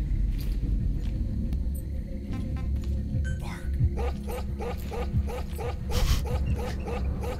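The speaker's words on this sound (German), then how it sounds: "Der Hund." Dog in the video game Metal Gear Solid 5: The Phantom Pain, a series of sharp barks and yips, rhythmic in the latter half, over a low rumbling background, with no talk.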